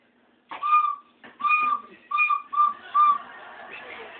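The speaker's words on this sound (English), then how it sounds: "Blow your whistle." A whistle blown in four or five short, shrill bursts with brief gaps between them, close and loud against a quiet background.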